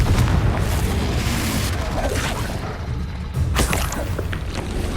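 Confringo spell blasts boom in Hogwarts Legacy combat, a heavy rumbling explosion layered with sharp cracks and whooshes, a second burst striking near the middle amid continuous battle noise.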